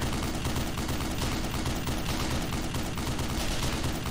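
A .50 cal machine gun firing in the game Black Mesa, a dense, continuous stream of loud rapid shots with no break across four seconds.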